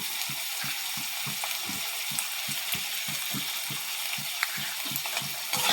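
Taro curry sizzling in oil in a pan as salt goes in, with a steady rhythmic scrape of stirring about twice a second over the continuous frying hiss, close and moderately loud.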